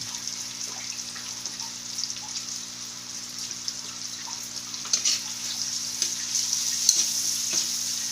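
Garlic and onion sauté in a pan, a steady close sizzle with occasional stirring clicks and spatters that grow a little louder toward the end.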